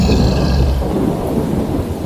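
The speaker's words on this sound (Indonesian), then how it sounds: "Petir menyambar. Hujan deras tiba-tiba mengguyur." A heavy downpour roars loudly and steadily, with a low thunder rumble running beneath it from the start and fading slightly after the first second.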